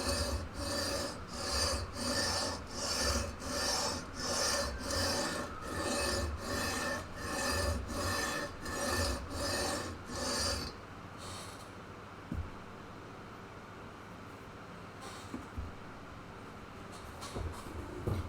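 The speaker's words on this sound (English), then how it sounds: "So now I'm taking a leveling beam with sandpaper on it." A sandpaper-covered leveling beam scrapes along guitar frets on a neck in steady back-and-forth rasping strokes, about a dozen even passes, then stops, leaving faint handling noise.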